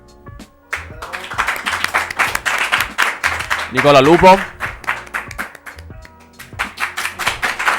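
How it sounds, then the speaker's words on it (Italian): Applause from an audience greeting guests being introduced, scattered claps and cheers rising in bursts under an announcer's amplified voice, which keeps talking over the clapping. "Ragazzi, applausi"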